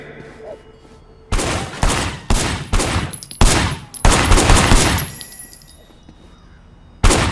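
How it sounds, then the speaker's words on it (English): Bursts of gunfire in the video game Sleeping Dogs, several loud volleys fired in quick succession before a pause and one final shot. "Officer Shen, take up a firing position."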